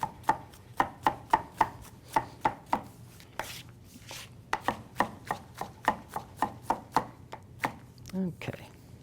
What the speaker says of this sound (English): But you do want to cut it up really small.